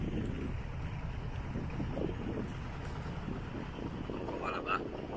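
A sailboat moves at over six knots under engine and genoa sail, a steady motor rumble mixed with wind buffeting and water rush, with faint voices under the noise.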